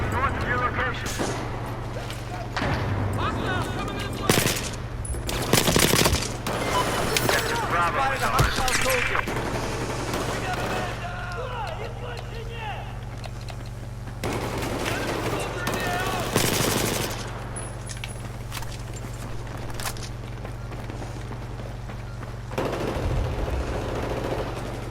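Machine guns fire in Battlefield 4 in rapid, punchy bursts over a steady low battlefield rumble, with a few louder volleys standing out.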